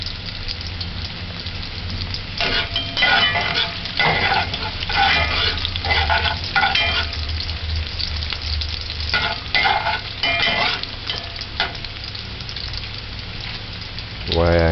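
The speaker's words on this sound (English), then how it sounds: "And the scallion and the garlic. Just allow it to burn for about 30 seconds or till it starts to caramel." Scallion and garlic fry in a pot with a continuous close sizzle, punctuated by bursts of louder crackling and stirring, with a short rising tone near the end.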